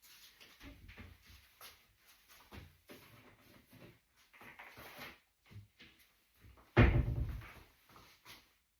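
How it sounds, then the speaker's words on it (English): A kitchen cupboard door shuts with a single solid, fairly loud thump after several softer knocks and rustles of handling, and no one speaks. "That's the cupboard door shutting."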